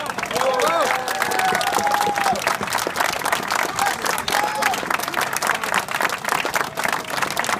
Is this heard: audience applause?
yes